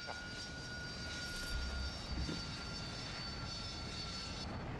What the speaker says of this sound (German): Das ist ein Jet.